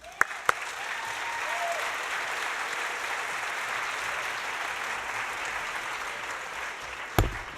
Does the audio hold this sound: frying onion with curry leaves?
no